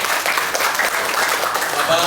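An audience at a motivational training seminar claps together in sustained, dense applause that fills the full two seconds at an even, loud level.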